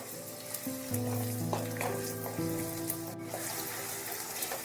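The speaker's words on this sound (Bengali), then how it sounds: "পেঁয়াজ ভাজা হয়ে গেছে, অল্প একটু লাল লাল হয়েছে।" Chopped onions fry in hot oil in a pan with a steady, close sizzle that runs throughout, joined by some tonal clinks and scraping from the pan.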